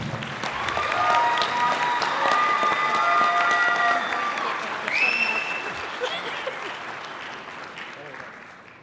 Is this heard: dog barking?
no